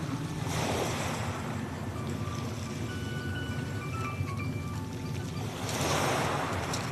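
Sea surf at Lazarevskoye washes onto the shore in a broad continuous roar, swelling near the start and again near the end, mixed with wind buffeting the microphone.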